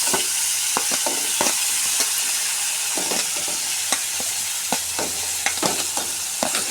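Green chilies and coriander leaves frying in a pan, a continuous bright sizzle punctuated by repeated sharp stirring scrapes and clinks at an uneven rhythm, close and fairly loud.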